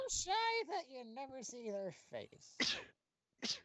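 A person gives one sharp sneeze close to the microphone after a stretch of casual talk during a Minecraft multiplayer session, followed moments later by a second short burst.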